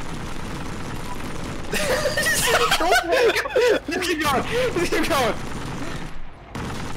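Rapid gunfire bursts from the World War II shooter Heroes and Generals, loud and close, crackling in quick volleys over several seconds while players talk over it.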